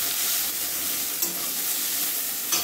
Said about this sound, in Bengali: শুধুমাত্র আলু ভাজা হচ্ছে